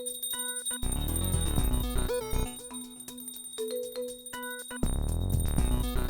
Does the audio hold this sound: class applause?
no